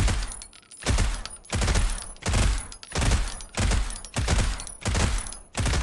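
Vector SMG firing in Critical Ops, seven quick bursts of rapid gunfire spaced about a second apart, loud and close, each volley punchy with a short tail.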